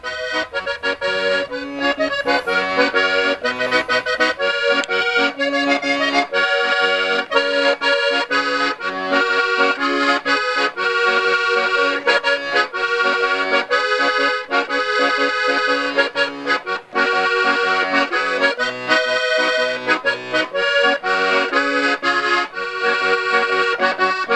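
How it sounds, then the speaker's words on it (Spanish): A trikitixa, the Basque diatonic accordion, plays solo in a bright, busy melody with sustained reedy chords, loud and continuous throughout with no voices. "Pero la triquitisa sola, suelta, suena así."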